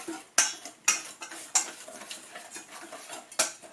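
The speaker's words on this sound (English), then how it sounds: "We're just going to give this a quick whisk" A whisk clatters against a bowl of dry flour, salt and cinnamon, giving four or five sharp, bright strokes at an uneven pace with soft scraping in between, close up and with no one speaking.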